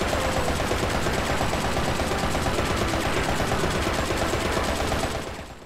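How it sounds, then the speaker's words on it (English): Rapid automatic gunfire in the Bayonetta video game, shooting at a wall without aiming, forms a dense, loud, continuous burst of shots that cuts off near the end, with no talking. "try shooting at a wall without aiming"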